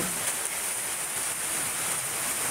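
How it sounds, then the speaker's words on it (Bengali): Midday rain over Pabna, Bangladesh falls as a constant, broadband patter and hiss, near and uniform throughout, with nothing else audible. "আজ প্রথমবার বৃষ্টি হলো পাবনাতে দিনের বেলায়।"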